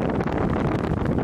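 Wind blowing steadily across a sailboat off Greece early in the season, a loud, continuous broadband rush with no pauses or voices.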